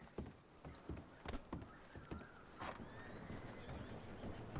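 Horse hooves clip-clop in an uneven rhythm of close, distinct steps in the video game Red Dead Redemption 2, with faint rustling between them.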